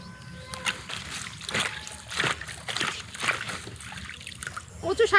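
Taro stems being washed by hand in a bucket of water outdoors: repeated uneven splashes and sloshing, fairly close. A voice speaks over the water at times.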